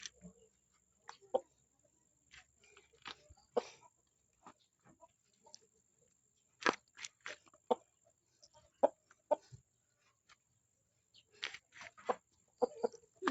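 A chicken clucks in short scattered bursts, fairly close but quiet, with silent gaps between the calls.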